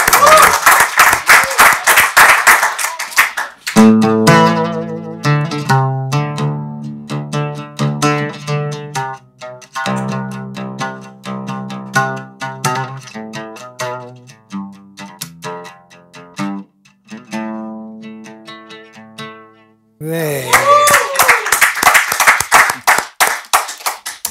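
A studio audience claps for a musician at the opening and again near the end, bursts of applause framing a long stretch of instrumental music with distinct tones in the middle.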